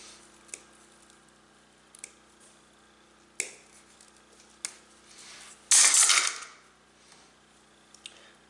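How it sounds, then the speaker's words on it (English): Wire cutters snipping and stripping coaxial TV cable: several sharp isolated clicks and snaps close by, then a brief loud crunching rasp of cutting, in quiet surroundings with no talking. "now we'll take the other wire cutters"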